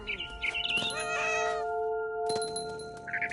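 A cat meows several times, drawn-out and whiny, over a quiet background with a soft chime-like tone lingering.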